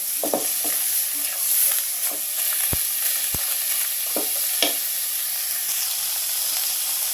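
Bottha greens (shak) fry in a pan with a loud, continuous sizzle and hiss. Stirring scrapes and taps sound every so often, close up and with no voices.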